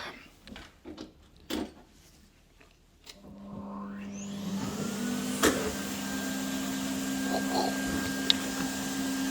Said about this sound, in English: Another vacuum cleaner here